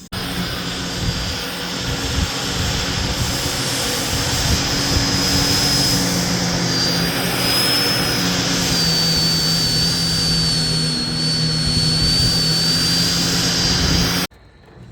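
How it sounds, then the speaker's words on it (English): A lawn dethatcher runs steadily as it tears moss out of grass during spring lawn care, giving a loud, continuous engine drone with a high whine riding on top for about fourteen seconds before it cuts off abruptly. "Can already see how that dethatcher just yanks that moss right out of the grass"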